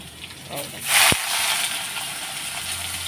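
Salted water lily stems tipped into a hot pan, a brief rushing hiss and burst of sizzling, then a steady fry that continues at a moderate level.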